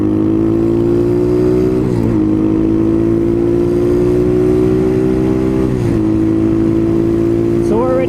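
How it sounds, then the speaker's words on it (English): A 2019 Apollo 250cc dirt bike engine revs hard and close, holding a loud buzzing drone with several quick dips as the rider shifts gears and climbs again, while speed builds going downhill. "I'm just going to rev it."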